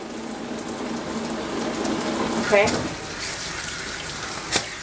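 Tap water runs steadily at a sink while a Shih Tzu's eyes are rinsed during grooming, with a person speaking briefly over the flow and a sharp clink near the end.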